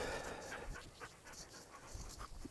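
A dog panting close by, rapid rhythmic breaths repeating steadily, fairly soft and alone.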